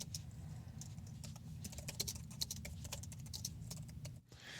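Fast, uneven typing on a computer keyboard while writing code, with crisp clicking keystrokes in irregular bursts over a low steady room hum, close to the microphone and without any speech.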